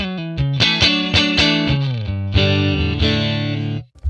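An electric guitar, a Stratocaster through a Fender 1957 Tweed Bassman amp model, plays loud, warm, slightly overdriven chords and sustained notes in a rhythmic phrase, then cuts off abruptly.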